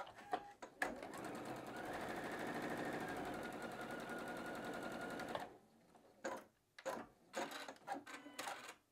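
A sewing machine stitching quilt fabric squares, running in a steady rapid chatter for about five seconds, then a few short bursts and clicks with pauses, close up and without talk.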